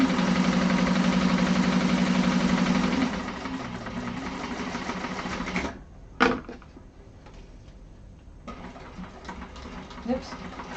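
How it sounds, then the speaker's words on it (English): Sewing machine chain stitching the exterior of a Snowdrop satchel, a loud steady mechanical whir for about three seconds, then the motor drops away to quieter intermittent clicks and handling with a brief sharp knock. "Now I'm going to chain stitch them."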